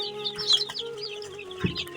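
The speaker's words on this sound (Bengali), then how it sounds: "এটা হচ্ছে একটা টাইগার মুরগির বাচ্চা" Tiger breed chicken chicks on a poultry farm give a quick run of thin, high peeps and soft chirps close by, with no voices over them.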